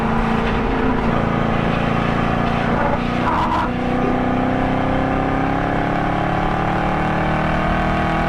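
A race car at Road Atlanta braking hard, its engine a loud, steady in-car roar whose pitch drops as it slows into the braking zone, with a brief rough burst partway through.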